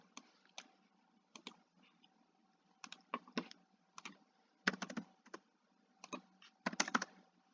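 Typing on a computer keyboard while filling in a text box, soft close key clicks arriving in short irregular bursts separated by brief pauses, with no voices.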